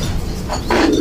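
Pigeons kept in a loft cooing, a soft low coo close by followed by rustling and a brighter burst, brief and fairly loud.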